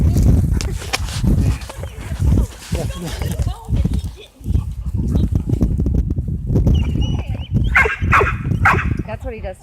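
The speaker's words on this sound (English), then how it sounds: "Barks, barks, barks." Dog barking and yipping repeatedly during play with another dog, short close barks mixed with heavy talking and movement noise.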